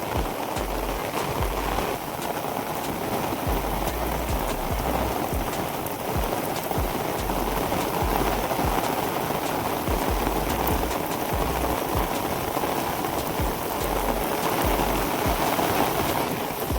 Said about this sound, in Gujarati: વરસાદ પણ સવારનો ચાલુ છે વરસાદ